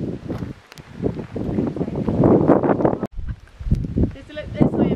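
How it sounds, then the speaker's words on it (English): Strong wind buffets the microphone in loud gusts at Moon Valley in Chile while a person talks over it, with a brief drop-out midway. "So windy here."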